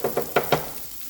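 A vegetable stir fry with zucchini sizzles in a pan as it is stirred, four quick scraping scoops in a row over a soft frying hiss.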